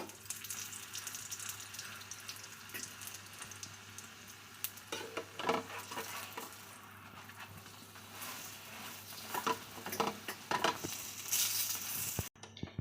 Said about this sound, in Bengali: এগুলো উল্টে পাল্টে ভালো করে ভেজে নেব